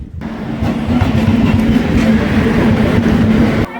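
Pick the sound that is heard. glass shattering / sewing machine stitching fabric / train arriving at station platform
train arriving at station platform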